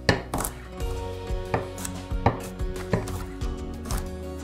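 A knife coarsely chops small shallots and garlic on a board, with close, steady, fairly quick knocks and no talking.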